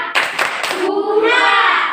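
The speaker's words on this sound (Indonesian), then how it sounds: "Tepuk semangat dulu untuk kita semua." A group of children claps a quick rhythmic pattern together, then calls out in unison, close and lively.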